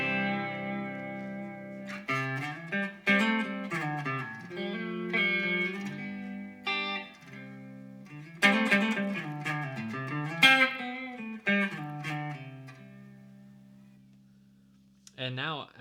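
Clean electric guitar notes and chords from an Enya Nova Go Sonic guitar ring out through a clean amp channel, with pauses between phrases and a bit of room reverb.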